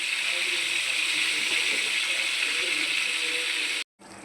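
Marinated pieces of food dropped into well-heated oil set off a loud, steady sizzle and crackle that keeps up without a break, then cuts off briefly near the end.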